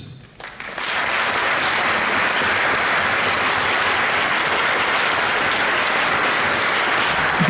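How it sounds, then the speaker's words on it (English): An audience at a NABBA Midlands bodybuilding show, during the Masters Over 50 comparisons, breaks into dense, sustained applause that swells within the first second and holds steady at full strength. "And now face the audience for a round of applause."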